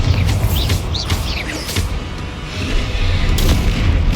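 Repeated heavy booms and crackling blasts from a Bombarda spell in the game Hogwarts Legacy fill a dense, loud battle mix, with sweeping magical effects layered over rumbling low end.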